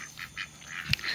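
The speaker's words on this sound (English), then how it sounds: "Say hello, duckies." Male ducks in a backyard garden give a few short nasal quacks, fairly close but soft, with one sharper call near the end.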